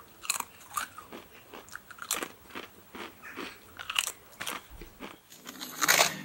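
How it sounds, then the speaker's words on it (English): Salt and vinegar crisps crunched between the teeth, a series of sharp, close bites and chewing crackles spaced irregularly, ending in a louder burst of crunching. "Bag of salt and vinegar crisps, gotta have it."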